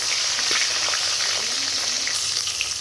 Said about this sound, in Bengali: তেলটা গরম হয়ে গেছে এবার মাছের মাথাগুলো আমি দিয়ে দিব